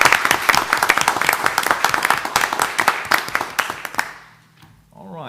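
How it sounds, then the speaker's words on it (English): A school board meeting audience applauds students and teachers for their science placings, a dense burst of clapping lasting about four seconds before fading out into quiet room tone. "How about a round of applause for all of those students and teachers?"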